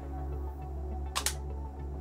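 The shutter of an instant camera loaded with FujiFilm FP-100C pack film fires inside a Blockbuster store: two quick, close clicks over a steady low room hum.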